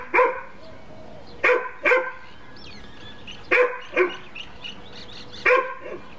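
A tied-up dog barks six times in short pairs and singles, loud and fairly close, with quiet gaps and a faint bird chirp between barks.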